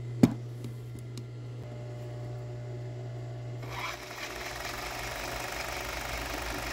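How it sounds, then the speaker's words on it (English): An overlock sewing machine trims off excess swimsuit fabric while edging it, a steady low mechanical hum with a sharp click at the start, then the motor's whir grows busier and louder as it stitches. "So this machine cuts the excess fabric off while it does the edging there like that"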